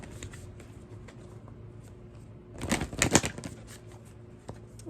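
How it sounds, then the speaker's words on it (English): A deck of Moonology oracle cards is shuffled, giving a short burst of crisp papery riffling at moderate volume amid quiet room sound. "Let's do a little shuffle."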